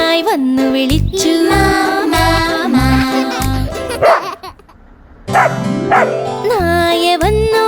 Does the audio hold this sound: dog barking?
yes